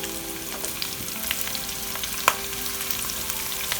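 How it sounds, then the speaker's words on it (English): Garlic with red onions and the white parts of spring onions sautéing in a pan, a steady close sizzle with a few sharp stirring clicks and one louder clack partway through. "Just saute this till it changes color."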